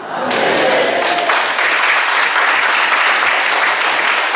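Loud, dense applause from a crowd at a church evening service fills the room, steady and sustained from start to finish.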